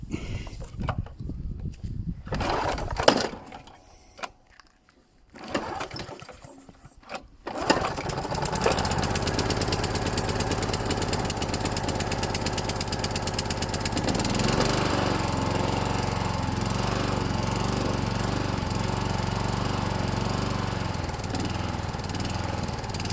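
A petrol lawn mower on choke is pull-started: a few rough tugs and sputters, a short pause, then the engine catches and runs loudly and continuously, its tone shifting slightly as it hunts.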